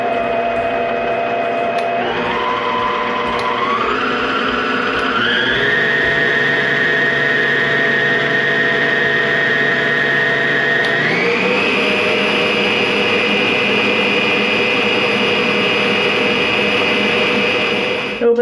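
An Aucma stand mixer whips meringue mixture to a froth with a loud, steady motor whine that steps up in pitch several times as the speed rises, then holds at a high drone.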